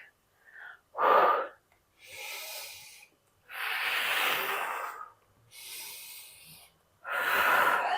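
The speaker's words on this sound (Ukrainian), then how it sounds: "В цей момент ми інтенсивно хорошо дихаємо" Heavy, rhythmic breaths, sharp inhales and long forceful exhales, repeated close up with short pauses between them, no talking.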